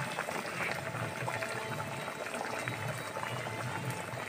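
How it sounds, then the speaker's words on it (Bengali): Chopped tomatoes fry in hot oil in a home kitchen, giving a steady, quiet sizzle and bubbling hiss that runs evenly throughout at a low level, with no clear break. "টমেটো কুচিটা এবার তেলের সঙ্গে একটু ভালো করে মেরে নিই"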